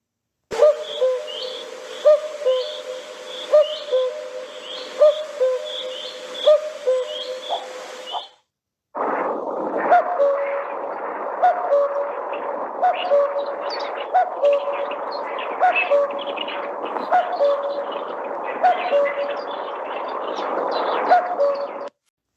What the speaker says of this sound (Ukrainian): Зозуля це гніздовий перелітний птах.